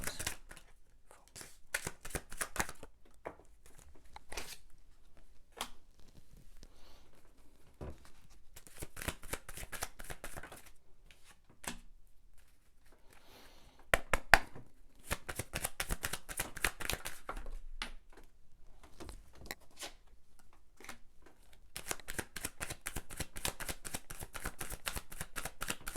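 Tarot cards shuffled and drawn in a steady stream of quick riffling bursts and soft slaps, close and fairly quiet, with brief pauses between runs and no talk.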